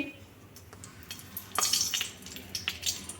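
Two bay leaves drop into a generous amount of hot oil and set off a quiet crackling sizzle that swells midway and then sputters in short bursts.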